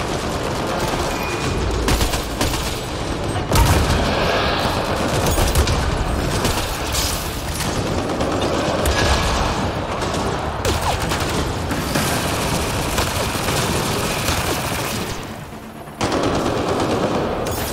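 Sustained machine-gun fire and rapid shots in a firefight from Mass Effect Andromeda, loud and nearly continuous with bursts and short pauses, no talking.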